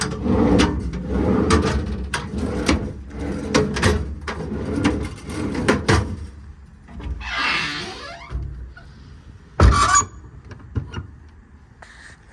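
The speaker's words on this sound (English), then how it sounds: "Again, all the drawers slide as they should." Metal storage drawers in a 16-foot Summit service body on a 2016 Freightliner M2 truck slide and clatter up close, giving repeated knocks and rolling scrapes, then one sharp, louder bang near the end.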